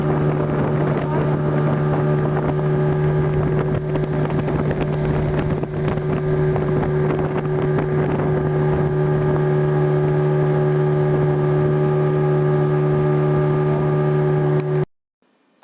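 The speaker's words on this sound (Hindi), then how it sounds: "अब हमारी स्पीड बोट एंटर हो रही है मैंग्रोव के फॉरेस्ट में।" A speedboat motors into a mangrove forest in the Andaman Islands, its outboard engine holding a loud, steady droning hum with wind buffeting the microphone, then cutting off abruptly at the end.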